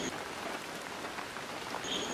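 Steady rain pattering on surfaces nearby, a dense even hiss of raindrops that holds at a constant level throughout the short stretch, with no voices or thunder.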